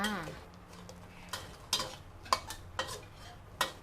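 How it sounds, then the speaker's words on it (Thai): Red jungle-curry paste is stir-fried with a splash of water in a pan for a pork curry, heard as a quiet sizzle under several distinct clinks and scrapes of a spatula against the metal. "ทีนี้เราก็จะผัดในส่วนของพริกแกงอะค่ะกับน้ำนะคะ ให้มีกลิ่นหอมก่อนจ้า"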